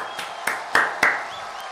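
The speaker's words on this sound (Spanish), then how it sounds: "Un fuerte aplauso, sí, señores." A small group gives a few sharp, separate claps, about four distinct slaps spaced irregularly over under two seconds, close and moderately loud rather than sustained applause.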